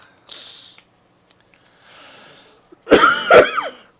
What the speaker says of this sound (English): Sorry, guys, with the coughing and stuff.